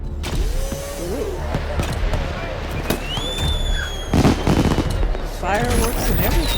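Fireworks go off in the video game Talos Principle 2, a loud run of rapid crackling bursts and whistling rising streaks, layered over a busy, continuous game soundscape.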